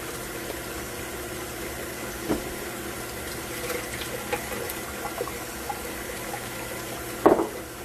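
Half a cup of warm water runs steadily into cake batter for an Italian cream cake in a home kitchen, a soft continuous trickle with a few small clinks and a brief clatter near the end, and no talking.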